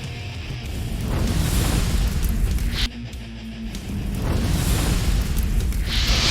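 A nuclear missile blast in a video game, a heavy sustained roaring rumble that swells, briefly drops, then builds again with hissing bursts on top, loud and continuous without speech.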